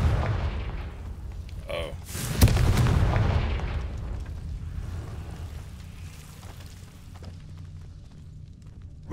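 A Confringo spell in Hogwarts Legacy sets off a deep booming blast with a crackling tail that fades into a low rumble, heard near and loud; a man briefly exclaims beforehand.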